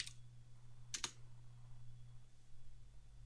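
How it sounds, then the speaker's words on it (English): A few quick, faint clicks of keys on a computer keyboard, close together, over a low, steady room hum. "if I type test now"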